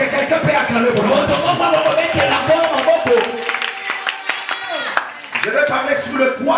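Lively applause and cheering rise from a church audience at a Monday worship service, dense clapping with shouts over a continuous crowd bed, dipping briefly before swelling again near the end.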